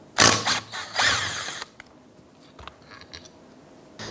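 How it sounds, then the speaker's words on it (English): A ratchet fitted with a 14mm socket loosens a bolt while a 2005-2009 Subaru Outback power steering pump is being replaced, giving a few quick close clicking bursts followed by quieter handling clinks and a soft knock. "Using a 14mm socket, we'll remove that bolt."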